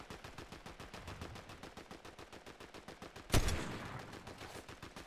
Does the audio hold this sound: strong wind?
no